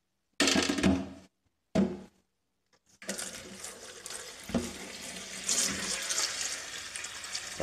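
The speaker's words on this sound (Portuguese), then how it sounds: "eu vou encher um baldinho com água aqui" Tap water runs into a small bucket in two brief bursts, then after a short pause a longer steady stream pours and splashes in at close range.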